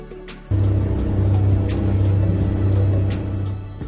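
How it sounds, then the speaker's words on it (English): Dump truck engine running with a steady low diesel rumble, loud and close, starting abruptly and holding an even drone before easing slightly at the end. "Dump truck, a type of truck capable of lifting and dumping cargo quickly."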